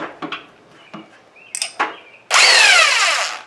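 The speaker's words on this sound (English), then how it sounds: "electric impact wrench here that I'm going to use to run these bolts out" Electric impact wrench working bolts loose on a 1940s Speed Queen wringer washer, a few short hesitant bursts and clicks, then one loud sustained whirring run close by.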